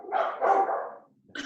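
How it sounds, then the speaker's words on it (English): A dog gives two loud, close barks, a long throaty one followed by a short sharp one after a brief pause. "Whose dog is that?"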